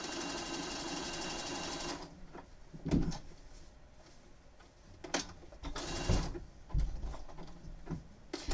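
A sewing machine stitches an appliqué Pokémon quilt, running in a steady continuous whir for the first couple of seconds, then stopping and starting in short bursts mixed with clunks of the fabric being handled.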